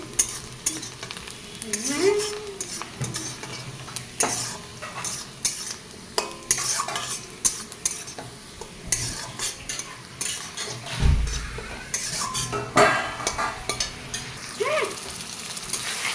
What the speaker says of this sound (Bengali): মিশিয়ে এবার এটার মধ্যে জাস্ট ঘুরিয়ে নেব, তাহলেই হয়ে যাবে আমার পটলের খোলা বাটা।